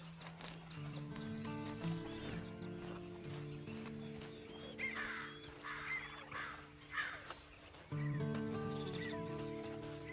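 Horse in Red Dead Redemption 2 Online whinnies and snorts between clip-clopping hooves, with crows cawing nearby and a soft musical drone underneath, moderately close and fairly quiet.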